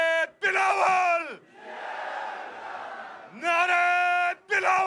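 A Pakistan Peoples Party corner meeting crowd at Eidgah Ground, Astore, chants slogans. A loud amplified lead voice calls out in shouted bursts, and a broad crowd roar answers in between.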